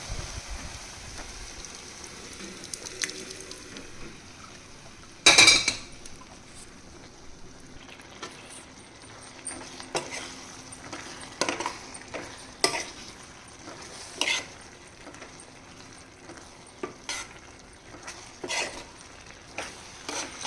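Cooked moong dal going into a pan of ridge gourd kootu, one loud clatter followed by repeated scraping and stirring strokes of a spoon against the pan over a low simmer.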